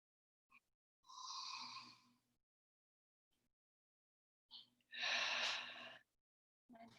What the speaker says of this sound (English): And one more time, deep inhale.